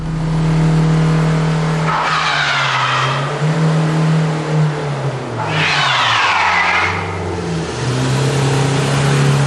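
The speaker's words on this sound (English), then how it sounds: "This is what happens when the traction control is switched off." A car skids on ice with traction control switched off, its engine revving steadily beneath two loud, wavering bursts of tire squeal, close and with no talking.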